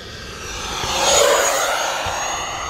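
An E-Flite F-16 Thunderbirds 80mm electric ducted-fan RC jet makes a loud flyby, its whooshing whine swelling as it nears, peaking midway, then easing off as it passes.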